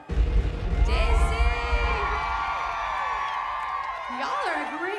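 A large outdoor crowd at a unity march concert on the National Mall cheers and whoops steadily, with scattered shouts above the roar, while a performer speaks over it.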